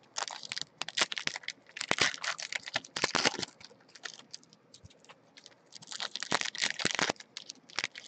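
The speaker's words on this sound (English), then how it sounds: "Yeah, the packs don't rip that well." Foil Topps Stadium Club baseball card packs being torn open, a close series of sharp crinkling rips in uneven bursts with short quieter pauses between them.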